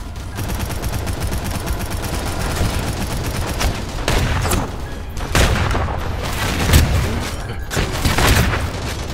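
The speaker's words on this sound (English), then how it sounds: "Sounds like you're firing a gun while you're repairing it, it's weird" Repair tool in the Angels Fall First game firing like a gun, heard as rapid bursts of gunfire-like shots with booming thuds over continuous battle noise.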